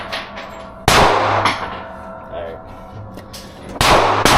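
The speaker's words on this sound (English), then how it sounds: "Shooting the Glock 45 again." Glock 45 pistol firing at an outdoor shooting range, with two sharp, loud reports several seconds apart and echoing decay, while a person says a single word between the shots.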